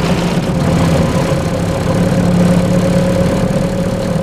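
A Lotus 907 16-valve 2-litre engine runs steadily at a loud, even idle with a constant low hum and no speech.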